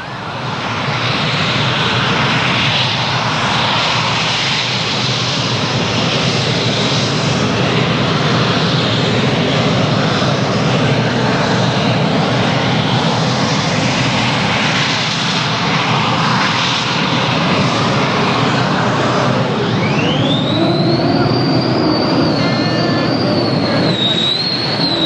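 A pulling tractor roars off the start line at a 1996 tractor pulling event in Sottrum. The loud engine runs continuously for the whole stretch, and a rising whine climbs near the end.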